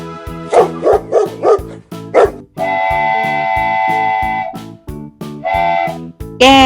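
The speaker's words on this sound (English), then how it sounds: "Dog. Dog. This is dog." A dog barks in a quick run of four loud, close barks, then one more after a pause, alternating with sustained whistle-like electronic tones over a steady rhythmic backing beat.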